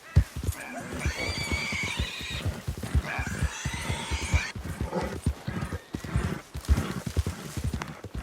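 A horse gallops in Red Dead Redemption 2. Its rapid hoofbeats clip-clop close and steady throughout, and a couple of whinnies or snorts rise above them.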